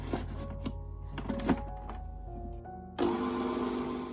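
A few soft thunks and a low hum give way to a kitchen blender starting up to blend chickpeas for Lebanese hummus. Its loud, steady whirring fills the last second.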